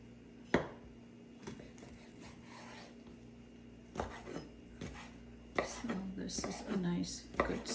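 A knife chops kielbasa sausage into pieces, the version made without preservatives, producing a few sharp, isolated knocks on a board spaced seconds apart, followed by busier handling noise near the end.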